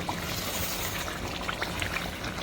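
Ghee is poured into a pot of shahi mutton korma near the end of cooking, giving a soft, steady trickling hiss against a constant low background, faint and brief with no talk.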